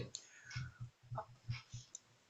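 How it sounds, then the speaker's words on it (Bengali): A handful of light, irregular keyboard key clicks sound up close in a quiet room as an IP address is typed. "এবার আমি আমার আইপি অ্যাড্রেসটি টাইপ করছি"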